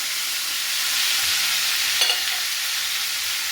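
Onion paste and green chili paste fry in hot oil on a stove that has been switched off, a steady, loud hiss that holds evenly throughout, with one brief clink near the middle.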